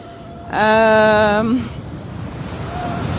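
Strong outdoor wind at about 60 km/h makes a steady, rushing roar throughout, with a brief loud tonal, voice-like sound near the start.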